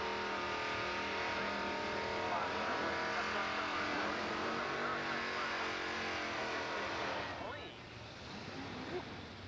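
A loud Chevrolet Chevelle Super Sport engine roars steadily at close range on a drag strip, then the sound shifts and fades as the car pulls away.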